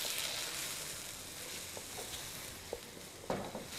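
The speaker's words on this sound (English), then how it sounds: "And you want to cook these onions until they're fragrant." Onions frying in oil in a pan make a quiet, steady sizzle with a few small pops and stirring clicks near the end, no one speaking.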